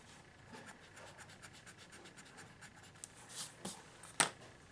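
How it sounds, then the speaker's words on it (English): An eraser rubs across paper over a pencil drawing of a rose in quick, faint, repeated strokes, followed by a few louder scrubbing bursts near the end, with no voices. "now we're going to erase this information, because now we have another petal in place"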